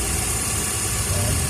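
A Fiat Bravo engine running at idle with a worn pulley and belt, a loud close steady mechanical hum and whir with a faint chirping edge and no clear speech.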